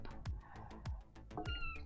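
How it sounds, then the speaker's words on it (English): A kitten meows several times in a row, close and fairly loud, with short plaintive cries spaced out in a loose rhythm over a quiet room. "I gotta take care of this kitten"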